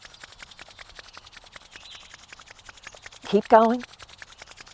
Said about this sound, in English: just bring the palms together and rub them together rapidly